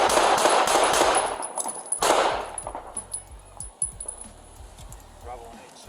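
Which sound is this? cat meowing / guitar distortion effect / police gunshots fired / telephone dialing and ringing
police gunshots fired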